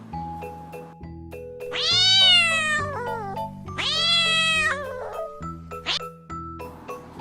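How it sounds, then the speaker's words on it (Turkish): A cat meows twice in long, drawn-out cries, followed by a brief squeak, over a soft tinkling tune in the background. "Bu bir kedi. Kediler miyav miyav der."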